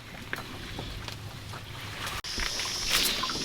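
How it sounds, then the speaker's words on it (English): An outboard motor, recently restored after being dead, runs on a bayou boat: a steady low drone under wind buffeting and water splash, with a brief dropout of sound midway. "That motor been brought back from the dead, Joe."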